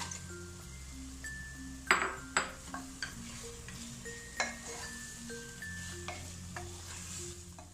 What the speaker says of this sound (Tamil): இந்த கறியும் சேர்த்து ஒரு 1/2 நிமிஷத்துக்கு நம்ம வந்து வதக்கலாம்.